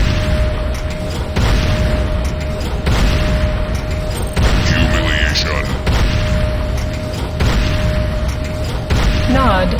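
A Hand of Nod structure blowing up in the game Renegade: a sustained, loud rumbling boom with crackling debris bursts, pulsing in waves over continuous battle noise and a steady electronic hum.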